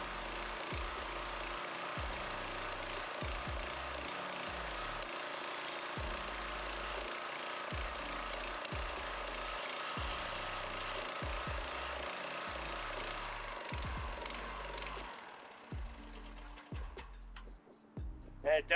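An old pressure washer's gas engine, running on four-year-old fuel with a carburetor that needs work, idles with a steady rhythmic thumping chug. It runs continuously for about fifteen seconds, then sputters and fades into irregular knocks.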